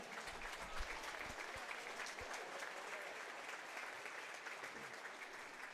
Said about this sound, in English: let's give those freshman, sophomore, and junior players a round of applause